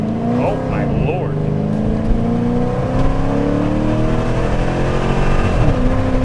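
A supercharged 2010 Dodge Challenger launches hard from a stop sign, its engine note climbing steadily through the revs, heard loud from inside the cabin with no talk over it.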